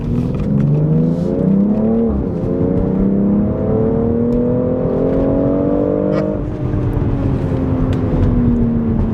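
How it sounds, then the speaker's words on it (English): A BMW X3 M with the S58 engine and a Speed Buster power module pulls hard at full throttle, loud and continuous, its rising engine note climbing through two gear changes with a brief dip at each shift. "I want to be able to put the throttle down and make it happen"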